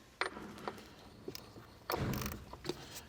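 A 36mm socket and ratchet work loose the oil filter housing on a 2009-2012 Porsche 911 997, giving a few sparse mechanical clicks and clunks, close by, with a brief louder scrape near the end.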